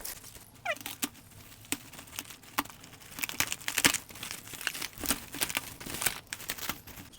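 Packaging for a toy amusement park set crinkles and tears during unboxing, close-up bursts of rustling plastic and cardboard in irregular bursts, with scattered sharp clicks.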